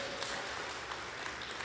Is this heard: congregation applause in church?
yes